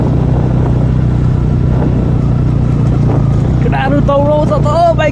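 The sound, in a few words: motorbikes on an off-road ride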